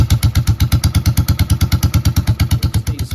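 A Yamaha Virago motorcycle engine idles close by, a loud steady chugging pulse of rapid, even beats running throughout with no talk.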